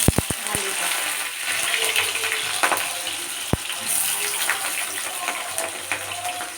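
Potatoes hit hot oil seasoned with five-spice, dried chilli and a bay leaf, setting off a loud, close, bubbling sizzle with a few sharp utensil knocks at the start.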